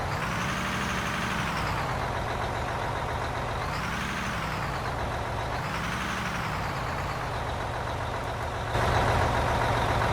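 A heavy truck in the Out of Ore mining game idles and revs in a low, steady drone. The pitch rises and falls in slow swells as the truck moves, then a louder burst comes near the end, with no talk.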